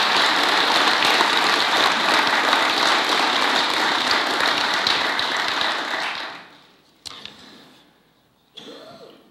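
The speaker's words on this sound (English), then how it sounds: "One more time, ladies and gentlemen, please give a round of applause." Loud, sustained audience applause at a city Veterans Day ceremony fills the hall for about six seconds, then fades out, followed by a few faint isolated sounds and quiet.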